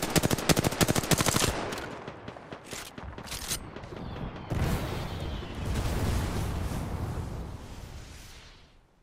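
Video game weapon fire: rapid automatic bursts of loud gunshots in the opening seconds, then sporadic shots and a heavy, continuous rumbling barrage that fades out at the end.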